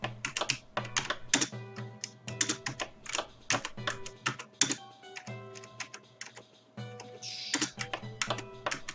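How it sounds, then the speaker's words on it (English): Fast, irregular clatter of keys on a computer keyboard, close and crisp, with bursts of rapid taps broken by short pauses and a faint steady hum beneath. "And I'm doing all this with the keyboard."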